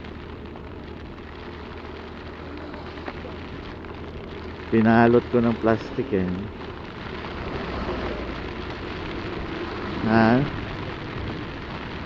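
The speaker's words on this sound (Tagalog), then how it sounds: "Masarap kasi mabidyohan yung ulan eh." Rain patters and hisses as a steady background wash during a Honda Beat V2 scooter ride from Manila to Samar, while someone speaks briefly twice over it.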